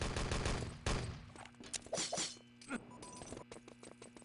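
A grenade explosion in Enemy Territory, with sharp bangs and gunfire bursts from the shooter, one strong blast near the start followed by scattered shots and impacts.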